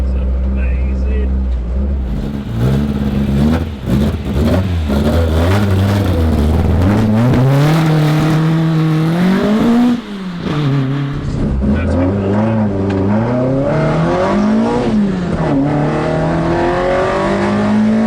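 A Cosworth-powered Ford Escort RS2000 race car engine revs hard from inside the cabin, the loud note climbing and dropping through repeated throttle blips and gear changes, with a brief lift around the middle.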